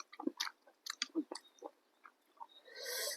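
Person eating homemade chicken noodle soup, close, wet chewing and slurping in uneven bursts, ending with a longer sustained slurp.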